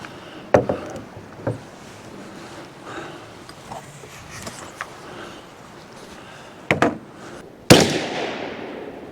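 Sharp reports from a .22 Magnum rifle fired at targets outdoors near a steelhead river, a few isolated cracks spaced apart, the last one loudest with a trailing echo.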